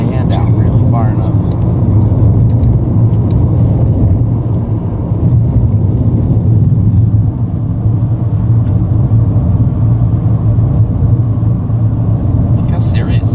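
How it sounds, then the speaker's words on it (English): A very small car's engine rumbles steadily throughout while driving, close and continuous, with people talking over it. "This is a really tiny car."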